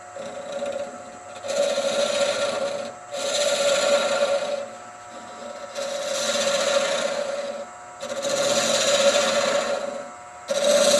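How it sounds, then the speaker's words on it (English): A 3/8 bowl gouge hollows out a wooden train whistle cap spinning on a lathe, giving repeated rasping cuts of a few seconds each over a constant motor hum, close and fairly loud. "Using a 3/8 bowl gouge, I'm going to go ahead and hollow out the cap."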